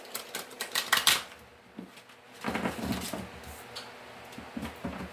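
Tarot cards riffle and flick in a quick burst, then a softer shuffling patter with light taps continues close by, no voices.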